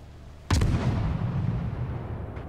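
A warship's main gun battery fires in World of Warships, a single heavy boom that rolls into a long rumbling tail, with a faint second report near the end and no talk.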